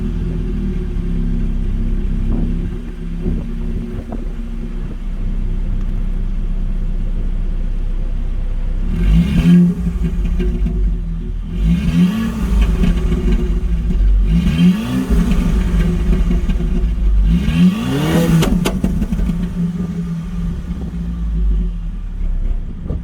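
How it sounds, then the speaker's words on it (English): A Volkswagen Golf GTI engine tuned for pops and bangs rumbles steadily at idle, then revs hard in four sharp bursts, each ending in crackling pops, loud and close with no talk. "I'll start up the car for you and give you a quick sound clip of it"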